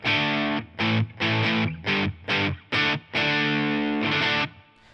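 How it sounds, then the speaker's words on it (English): Electric guitar played through a Vermin Distortion pedal, a Proco Rat copy, into a Mesa Boogie Mark IV amp, ringing out loud saturated chords in several choppy bursts before one long sustained chord that fades at the end. "I've got a Vermin Distortion, which is a copy of the Proco Rat, running into a Mesa Boogie Mark IV"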